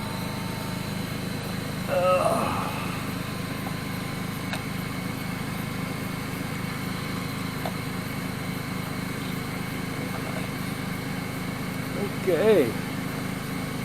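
An air compressor runs at a steady, droning hum through the whole stretch during cleanup of a 22-ton log splitter, with a short spoken word and a couple of brief louder bursts on top.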